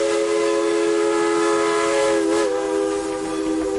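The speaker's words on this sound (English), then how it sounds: "you hear the shrill, piercing whistle behind you." A steam train whistle, in a tabletop role-playing game session, blows a loud, shrill, sustained tone that holds steady throughout, dipping briefly in pitch near the end.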